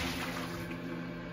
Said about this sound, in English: So we're going to dump the water in, see what's up.